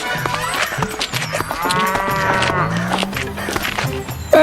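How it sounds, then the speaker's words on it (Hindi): A buffalo grazing crops in a field in a Hindi children's cartoon lets out drawn-out, low lowing calls amid rustling and cartoon sound effects, with a voice speaking briefly alongside. "ये आवाज? एक भैंसा खेत में फसल चर रहा था।"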